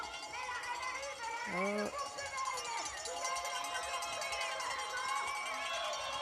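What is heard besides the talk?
home crowd cheering at ski mountaineering finish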